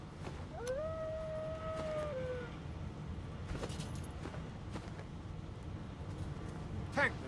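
A drawn-out, rising-then-level howl from a creature in the fantasy role-playing game Divinity: Original Sin II, a single long cry at moderate distance over a low ambient background.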